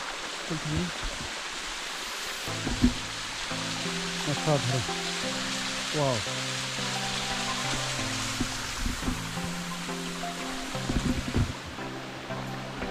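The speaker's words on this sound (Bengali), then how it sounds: "বা শ্রীরামপাড়া যাওয়ার উদ্দেশ্যে যাওয়ার পথে সাধারণ ঝর্ণাটি" Baktlai waterfall pours with a constant broad rushing hiss, while people's voices rise and fall over the water throughout.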